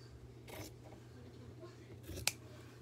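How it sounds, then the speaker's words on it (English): Paper being cut with scissors along a drawn line while assembling a handmade journal, two short snipping bursts with a sharper snip near the end, close and quiet over faint room hum. "I'm just gonna cut straight down that line"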